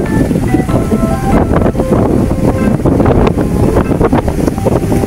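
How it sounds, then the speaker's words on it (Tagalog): Strong wind buffets the microphone during a motorcycle ride in Santa Magdalena, Sorsogon, a steady, loud roar with rumbling gusts throughout, no voices. "Mahangin."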